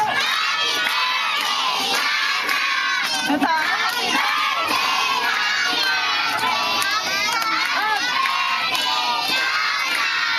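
A crowd of children sings Happy Birthday loudly together at a first birthday party, bright voices shouting out the tune continuously with cheering energy.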